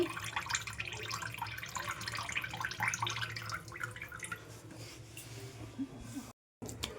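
Water is pressed out of fresh homemade peanut paneer made without milk, producing soft wet squelches and trickling drips, close and quiet, with faint breathing.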